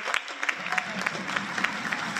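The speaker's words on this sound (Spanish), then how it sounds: "Y un gran aplauso." Steady audience applause fills a live drum circle concert, dense clapping with sharper individual claps popping out and a faint murmur of crowd voices underneath.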